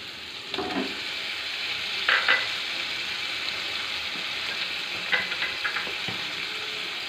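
Soaked potatoes and eggs added to masala, frying with a steady sizzle and a few scraping stirs breaking through at intervals.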